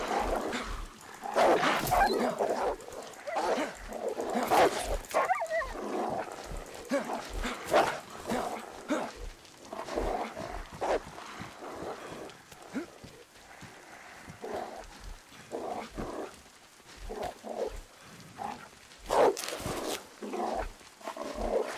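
Wolves in the survival video game DayZ, a pack barking, yelping and whimpering in rapid overlapping bursts, loud and close, continuing throughout with occasional brief quieter gaps.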